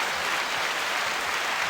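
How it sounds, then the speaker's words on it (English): Clapping for a podcast guest fills the short stretch, a dense, steady wash of many hands held at an even level with no talk over it. "Let's give her a clap."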